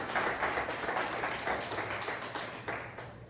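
A church congregation claps together during a healing and deliverance worship service, a steady wash of applause that stays fairly soft and continuous throughout.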